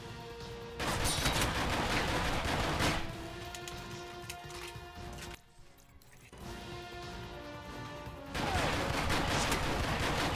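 Repeated gunfire from the video game Alpha Protocol, loud dense bursts of shots in sustained volleys with a brief lull mid-way before the firing resumes.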